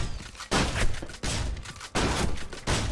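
Shotgun blasts in the Gotham City Impostors shooter game, four loud close shots spaced roughly every half to one second, each followed by a short decaying tail, with no talk.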